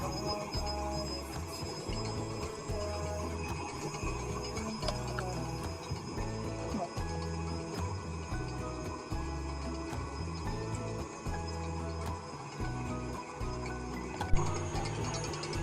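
An electric mixer whips vanilla chantilly cream in a home kitchen, giving a loud, steady mechanical whir with a rapid rhythmic rattle throughout and no talking.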